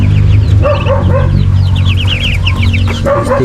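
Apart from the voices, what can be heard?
mother hen clucking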